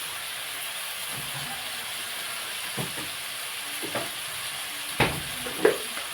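Ginger garlic paste sizzles and fries in a pan for a bean and cauliflower curry, a steady hiss broken by a few sharp spatters and stirring scrapes toward the end, no talk.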